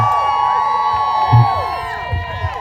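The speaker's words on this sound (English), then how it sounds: "let's give Malachi another round of applause" A crowd at a Trans Day of Visibility event in Memphis cheers and whoops for Malachi, a close, dense mass of rising shouts and hollers with voices mixed into the din.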